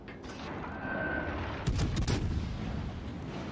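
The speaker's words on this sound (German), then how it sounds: "Dort fährt eine Atlanta versuchen wir natürlich drauf zu schießen" A salvo from the cruiser Tschapaew's guns in a World of Warships naval battle, heard as a heavy, dull boom about halfway through over a steady low rumble of engine and sea.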